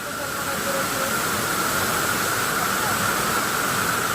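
The third tier of a waterfall reached by a steep mountain path gives a constant, even rush of falling water, loud and unbroken throughout.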